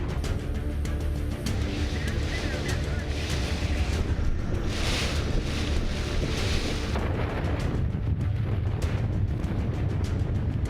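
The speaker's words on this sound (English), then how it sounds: "with the rain and the wind ripping down the street, visibility has dropped significantly" Heavy rain and strong gusting wind in a storm at Lake Charles roar steadily and loudly throughout, with wind buffeting the microphone and no voices over it.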